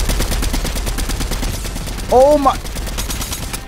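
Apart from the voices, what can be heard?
gunfire from a gun in a video game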